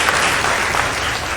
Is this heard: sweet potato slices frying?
no